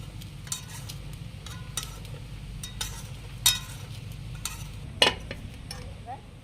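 A knife run around the inside of a bowl to loosen steamed semolina dhokla: a few soft scrapes and light metallic clinks over a low, steady kitchen hum.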